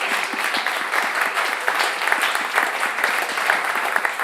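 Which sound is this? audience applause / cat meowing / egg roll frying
audience applause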